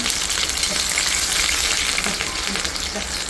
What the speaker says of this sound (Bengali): কাঁচা লঙ্কা দিয়ে দিলাম